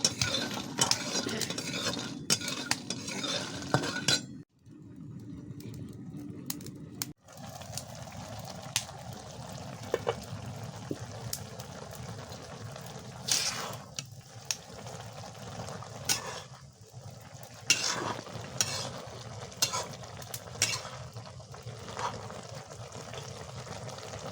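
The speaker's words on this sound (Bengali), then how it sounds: "আর বড়ি দিয়ে নাড়াচাড়া করতে হবে অনাবরত" A utensil scrapes and clinks repeatedly against a pan as lentil dumplings (bori) fry, with a soft sizzle underneath and brief pauses between bursts of stirring.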